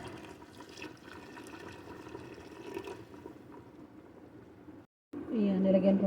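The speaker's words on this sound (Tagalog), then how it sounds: "Dagdagan ko ng konting tubig pa." Water is poured into a simmering chicken dish, a steady liquid splash over ongoing cooking noise, cutting off briefly and returning louder and closer near the end.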